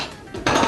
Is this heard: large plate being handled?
yes